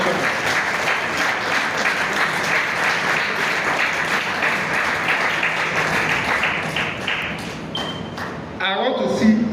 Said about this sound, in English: let us give a round of applause to the governor and the honorable commissioner